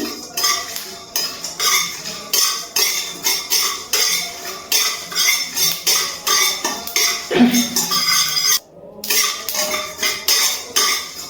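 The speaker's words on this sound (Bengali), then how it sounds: "এবার আমি সব কিছু আবারও মিশিয়ে একটু হালকা ভেজে নিচ্ছি।" Whole coriander, cumin and fennel seeds dry roasting in a pan for a dhaba-style kadai chicken, with a spoon scraping and clinking against the metal in a steady repeated rhythm, close and fairly loud.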